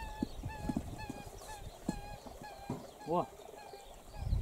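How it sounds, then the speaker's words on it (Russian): A bird calls outdoors, repeated honking cries like a goose ringing out from nearby fowl at a rural spot, mixed with brief speech and occasional thuds. "А какая-то птица кричит."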